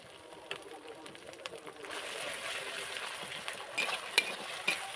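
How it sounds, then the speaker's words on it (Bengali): Ginger, turmeric and chili pastes sizzle while being stirred in a pan for a country chicken curry, a soft hiss that swells after the first couple of seconds, with scattered scraping clicks. "মশলাগুলো ভালো করে মাখিয়ে নিয়ে নাড়তে থাকবো।"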